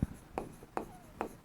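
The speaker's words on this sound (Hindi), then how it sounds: "अब इसको लिख देते हैं" Hand writing during a metallurgy chemistry lesson: four or five short, scratchy strokes land at an even rhythm, close and quiet, with no talking.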